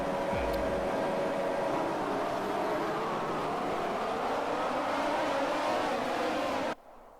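Formula 1 cars surge off the line at a race start in the F1 2020 video game, a dense, loud engine whine rising over several seconds before cutting off abruptly near the end.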